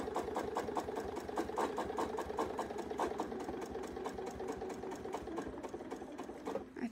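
A sewing machine stitches continuously for ruler work quilting, its rapid needle beat running as an even mechanical whir from start to finish, close and fairly loud with no talking.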